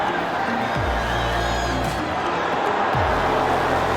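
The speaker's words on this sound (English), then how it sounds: "Crowd got excited, but it wasn't a tester for Napoli." Football stadium crowd during a Barcelona versus Napoli match, a dense, steady roar of cheering that holds at full loudness throughout, with a commentator's voice speaking over it.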